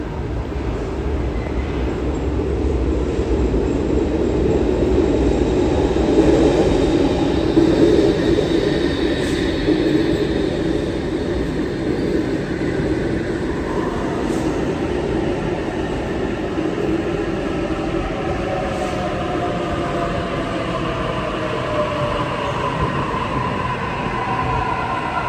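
A Sydney Trains Waratah electric train pulls into a station as a steady loud rumble of wheels and motors, with a rising and falling whine across the arrival and no talk.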